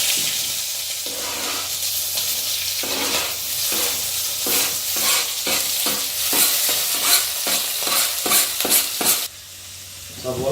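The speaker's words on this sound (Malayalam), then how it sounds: "സവാളയും പച്ചമുളകും ഇടാം" Sliced onion and green chili hit hot oil with mustard seeds in a pan, sizzling continuously while a spoon scrapes and stirs in quick, repeated strokes, close and fairly loud.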